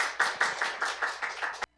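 Congregation in a church clapping together in a steady unison rhythm, eight or so sharp claps spaced evenly, close and fairly loud, stopping abruptly.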